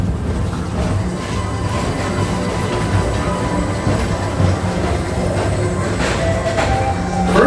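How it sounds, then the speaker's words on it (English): A Tomorrowland Transit Authority PeopleMover ride vehicle at Magic Kingdom, Walt Disney World, rolls steadily along its track with a continuous loud rumble and clatter, heard from on board without speech. "your express train keeps on rolling through the future"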